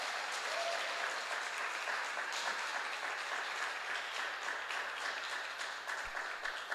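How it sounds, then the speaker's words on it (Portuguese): Sustained audience applause fills a church family conference hall, steady and dense from start to finish with no speech over it. "com uma salva de palmas"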